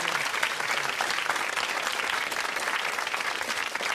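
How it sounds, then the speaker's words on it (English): A studio audience at a 1992 Blockbusters quiz show claps in sustained, dense applause that holds steady and loud throughout. "Give them a big round of applause, please."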